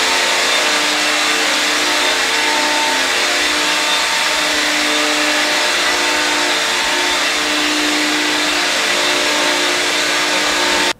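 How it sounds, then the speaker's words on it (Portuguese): A vacuum cleaner runs continuously over a bathroom floor, a loud, steady, close whine with a broad airy roar that holds evenly throughout before cutting off abruptly at the very end. "Mas já deixa ali de molho enquanto vou aspirar o resto do banheiro."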